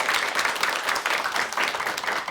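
Audience applause for a lecturer at a televised Korean special lecture, a steady wash of many hands clapping close and fairly loud throughout, with no talk over it.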